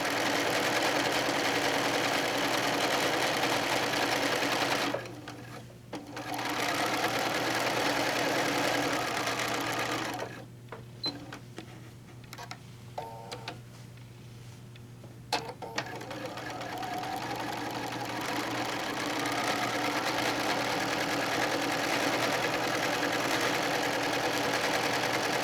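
A sewing machine fitted with a walking foot stitches quilted placemats, running with a steady close mechanical whir that stops briefly twice before starting up again.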